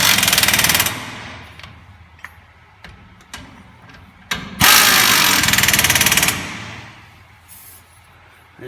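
An impact wrench hammers coilover bolts on a Ford F100 fitted with a Crown Victoria swap, in two loud rattling bursts at the start and middle. Sharp clicks and quieter shop noise fill the gaps between them.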